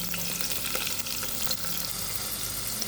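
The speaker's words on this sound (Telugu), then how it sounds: "ఆనియన్స్ వేసుకుంటున్నాను." Chopped onions sizzle and fry steadily in a hot pan for a spicy mutton curry, with a constant close crackle and occasional stirring, no voices.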